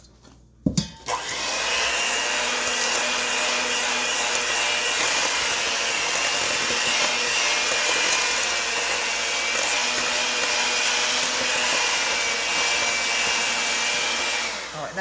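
An electric mixer whirs steadily through applesauce nut cake batter, a constant close high-pitched motor drone after a brief clunk at the start.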